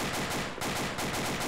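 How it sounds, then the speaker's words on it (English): Rapid, dense bursts of gunfire during a close-quarters combat training exercise, loud and continuous with fast repeated shots, no voices. "We're taking fire."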